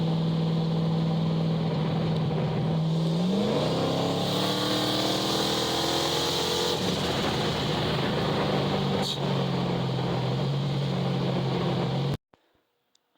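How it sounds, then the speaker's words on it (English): A badly damaged engine idles and revs, its steady drone rising in pitch with a turbo whine layered over it, loud and close before cutting off abruptly near the end. "Let me hear the turbo."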